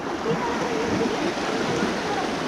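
Floodwater rushing past a submerged transformer on a flooded road, a steady, loud, broadband roar of fast-flowing water that holds without a break.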